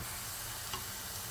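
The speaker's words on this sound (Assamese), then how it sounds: "এনেকৈ ভাজি থাকিব লাগিব" Semolina for suji laddoo fries in a pan over a very low flame, a soft continuous sizzle and hiss with a faint stir near the middle, quiet and close, no voices.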